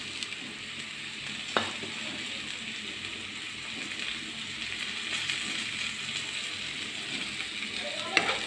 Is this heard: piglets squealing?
no